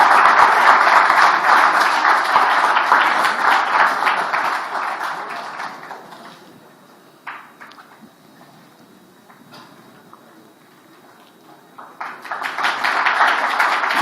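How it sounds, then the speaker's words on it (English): Audience applause at a tech innovation exhibition event fills the room loudly for several seconds, fades to near quiet in the middle, then swells again toward the end. "A round of applause."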